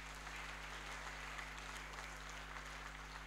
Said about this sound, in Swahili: Sisi tumpigie Yesu makofi.